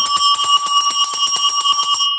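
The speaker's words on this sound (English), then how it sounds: "very loud ring. A cowbell." A gold-tone cowbell about five inches across rings very loudly and up close, its clapper striking in a rapid, continuous rattle of bright metallic clangs with a sustained ringing tone, stopping abruptly at the end.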